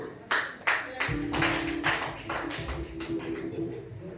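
A church congregation claps during a sermon, with a run of sharp, evenly spaced claps in a reverberant hall and a low sustained tone underneath.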